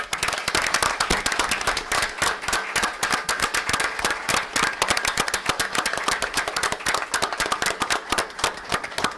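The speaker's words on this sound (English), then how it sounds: "another round of applause for them, please" Audience at a Henry County Board of Education meeting claps for the students, a steady dense patter of many hands, loud and near, continuing unbroken with no talk.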